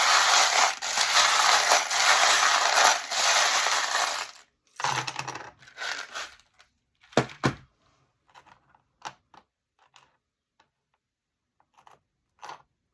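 Fortune-telling charms are cast and tumble with a dense rattling clatter for several seconds, then scatter into a few sparse clicks and taps as individual pieces settle, close by and with no talk.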